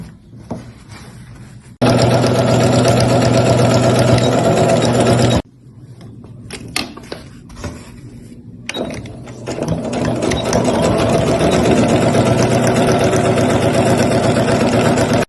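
Sewing machine stitching fabric and lining pieces for a bread basket, running in steady mechanical bursts with short pauses between seams, loud and close.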